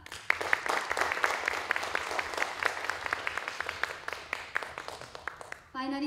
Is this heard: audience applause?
yes